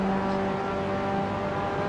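A race car engine in the iRacing simulator at Road Atlanta drones loud and steady at sustained revs with a strong tonal hum, close-up and continuous.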